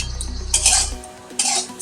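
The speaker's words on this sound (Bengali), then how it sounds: "এবার মাংসটা দিয়ে দেব" Mutton goes into a pan of onions fried until red and gets stirred for a Bengali mutton curry: a low sizzle gives way to two scraping bursts of a utensil against the metal pan, close and alone.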